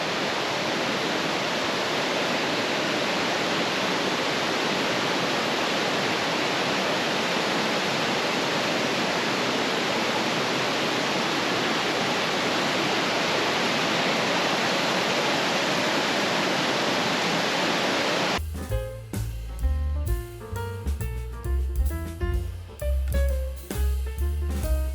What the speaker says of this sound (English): Here's a little bit more of Wakeena Falls.